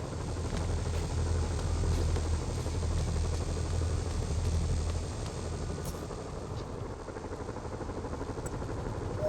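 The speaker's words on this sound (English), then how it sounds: "Bet I can use those helicopters to swing." Helicopter rotors beat steadily in Marvel's Spider-Man Remastered, a dense, continuous thrumming drone over city ambience that eases slightly partway through, with no voices.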